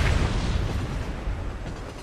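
A dynamite explosion in the Western video game Red Dead Redemption, set during a train robbery, gives a loud, sustained rumbling boom with no distinct attack, roaring broadly and fading slightly over two seconds.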